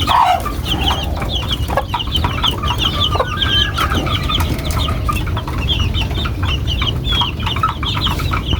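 Chicks peeping continuously while being fed, a dense, steady chorus of high chirps from a group of young birds up close, with no talking.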